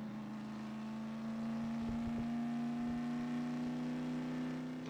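An odd-sounding car engine in Garry's Mod, a steady droning hum with a strong sustained tone, holding level with slight rises as it runs, heard alone without talk.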